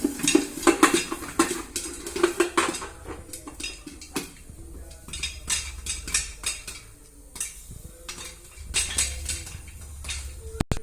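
A rapid, uneven clatter of popcorn kernels popping against a covered metal pot, bursting in dense flurries with brief quieter gaps.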